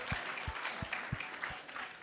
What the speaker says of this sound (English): let's give a big round of applause to everyone who has joined us here